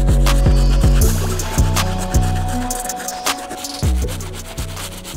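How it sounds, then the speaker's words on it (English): Stiff-bristle brush scrubbing the outsole of an Adidas Yeezy 450 Cloud White sneaker, a close, loud run of rough rubbing strokes with repeated scraping passes and no talk. "we're all done hitting this outsole with a stiff brush."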